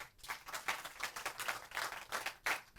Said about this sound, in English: So let's give them a round of applause to congratulate them.